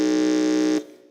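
An electronic quiz buzzer sounds during a test at a junior science and maths quiz championship, a loud, steady, sustained tone lasting most of a second before cutting off and fading.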